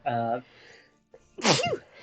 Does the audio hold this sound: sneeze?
yes